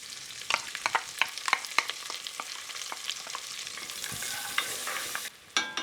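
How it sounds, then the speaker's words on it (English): Shallot and garlic frying in a pan for pan-roasted mushroom noodles, a close crackling sizzle broken by repeated sharp scrapes and taps of stirring, with no talking. "So I really just want to cook this until the garlic is really aromatic."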